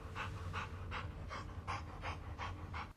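A dog pants in a Blade Runner film scene, eight quick rhythmic breathy huffs, close and clear over a low background hum.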